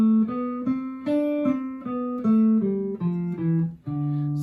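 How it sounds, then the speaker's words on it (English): Guitar playing a D Dorian scale from D up to the octave, one clear note after another at a steady, moderate pace, close and alone. "So the second mode of the major scale is the Dorian scale"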